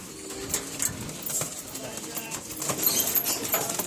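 Pigeons in a home loft holding males, females and Ablook pigeons kept for sale coo amid a wash of background noise, with a few brief higher calls.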